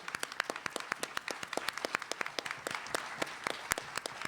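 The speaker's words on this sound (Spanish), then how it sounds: "aplauso." Scattered applause from a small audience at an accounting and auditing update seminar, sharp individual claps in an uneven rhythm, fairly close and moderately quiet, with no talk over it.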